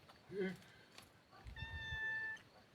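A cat meows near the microphone at fishing time, one short call followed after a pause by a longer, high, drawn-out tonal meow, with no talk over it.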